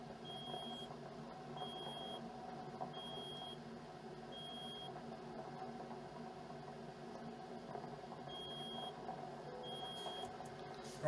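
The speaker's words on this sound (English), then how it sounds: "shut up, you stupid alarm" A vehicle alarm gives faint, evenly spaced single beeps, pausing midway before resuming, over a steady low road and engine rumble inside a moving car.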